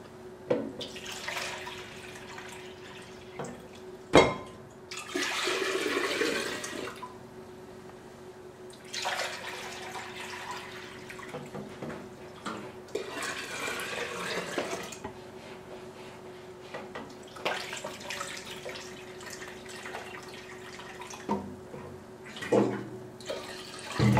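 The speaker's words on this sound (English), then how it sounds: "you want to add 10 cups of cold or room temperature filtered water back into the gallon glass jar." Filtered water pours in several bursts into a gallon glass jar, splashing and gurgling at close range, with quieter pauses and small clinks between pours.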